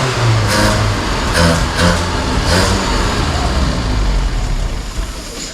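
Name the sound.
1983 Honda Civic 1.5L EM1 engine first start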